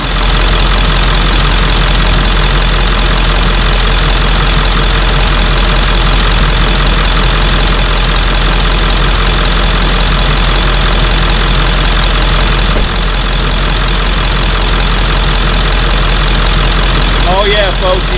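A car engine idles while the air conditioning is being serviced, a loud, steady, unbroken drone heard close to the vehicle with almost no change in level from start to finish.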